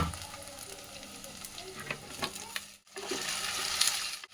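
Tomatoes frying with softened onions in a home kitchen pan, a steady close sizzle that drops out briefly near the end, then returns brighter and louder.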